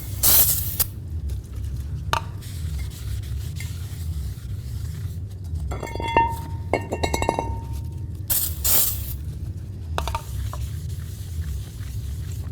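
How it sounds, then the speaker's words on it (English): Parts cleaner hissing from an aerosol can onto a new front brake rotor of a 2009-13 Mazda 3, in short bursts amid faint metallic clinks and a low background hum, no speech. "We want to go ahead and make sure we clean this down with a little bit of parts cleaner"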